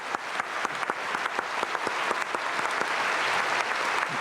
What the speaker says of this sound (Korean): 우리 감사의 박수를 드리겠습니다.